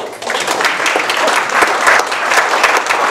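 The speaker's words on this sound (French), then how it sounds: "Applaudissements 20 secondes, pas plus." A lecture audience breaks into loud, dense applause, a sustained close wash of many hands clapping at once with no pause.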